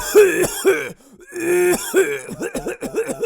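A person clears their throat and coughs repeatedly, a run of harsh, voiced hacks close by with a short pause partway through.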